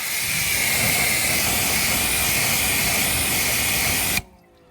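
A steady, loud hiss of water spray hits a car tyre for a beading test, continuing for about four seconds before cutting off abruptly into near silence.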